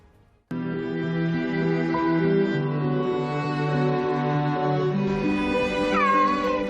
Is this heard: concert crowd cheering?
no